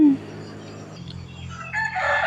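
A rooster crows at a temple on a rainy morning, a single faint call rising near the end over soft rain-damped ambience, after a brief low sound at the start.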